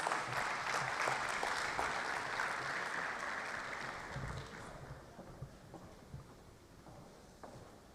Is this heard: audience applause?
yes